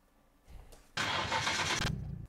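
Simulated engine of a 1965 Ford Falcon fitted with an RB26DETT, cranking in a racing game: a brief low rumble, then a loud steady churning burst of about a second that cuts off without catching.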